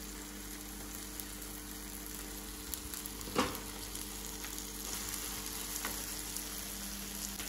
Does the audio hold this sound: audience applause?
no